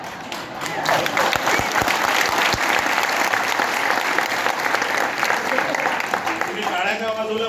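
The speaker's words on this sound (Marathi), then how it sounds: "तुम्ही टाळ्या का वाजवल्या" Loud, sustained applause from an audience fills the whole stretch, dense clapping at a steady level with a few sharper claps early on; a crowd murmur sits beneath, fading toward the end.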